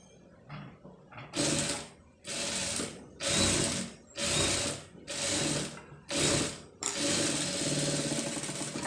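A sewing machine stitches an embroidered blouse in six or seven loud, close bursts of rapid mechanical whirring, each about half a second long, separated by short pauses, then ending in one longer continuous run.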